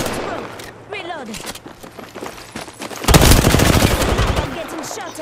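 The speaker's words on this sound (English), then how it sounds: "I'm getting shot at." Gunfire aimed at the player in Apex Legends on PS5 erupts as a dense, loud burst of rapid shots in the second half, following quieter game sounds and a talking voice earlier.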